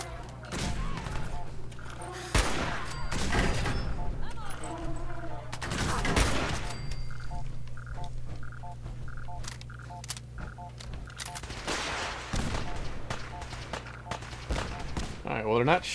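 Scattered gunshots ring out in a Fallout 4 firefight. Sharp single cracks and short bursts sound at irregular intervals over a steady low hum, with a voice talking in places.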